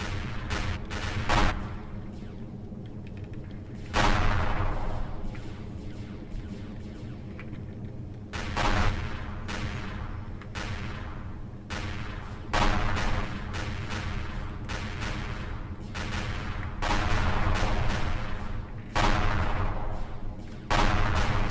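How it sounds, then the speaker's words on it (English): Laser turrets fire in Empyrion Galactic Survival during a close-range attack on a Cartel Incorporated Ansari Manta ship, sounding as repeated loud sharp bursts in clusters over a steady low hum, with no voices. "get all the laser turrets lighting this sucker up"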